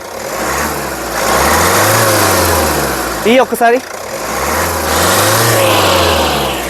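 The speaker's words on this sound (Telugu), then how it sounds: "ఇంజిన్ యొక్క నాయిస్ చాలా అంటే చాలా సైలెంట్గా అయితే ఉందండి ఒకసారి యాక్సిలేటరీ" A 2016 Hyundai Creta SX diesel engine revs up twice in long, rising surges, settling back to a quiet idle between them, with a short spoken phrase in the middle.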